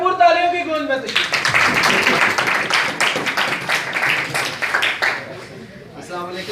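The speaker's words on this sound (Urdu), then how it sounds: "بھرپور تالیوں کی گونج میں تشریف" Seminar audience at a medical college applauding to welcome a speaker: a brief voice first, then a dense burst of clapping that carries on for several seconds and thins toward the end.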